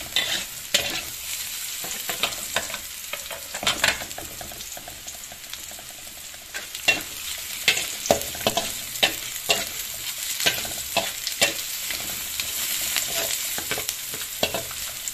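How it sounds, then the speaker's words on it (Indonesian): Shallots and garlic sauté in oil over high heat, with a dense continuous sizzle and frequent stirring scrapes and clatters throughout. No one speaks. "Kalau numis bawang merah bawang putih itu harus apinya besar teman-teman"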